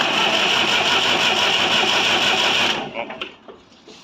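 A Massey Ferguson 35 tractor engine runs with a steady, loud mechanical drone, then cuts out abruptly, leaving a few faint knocks and clicks.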